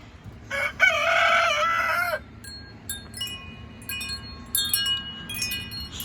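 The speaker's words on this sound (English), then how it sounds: "all that crowing makes you thirsty, doesn't it?" A rooster on a summer morning lets out one loud, close crow lasting about a second and a half, followed by quieter clucks and chirps from other fowl nearby.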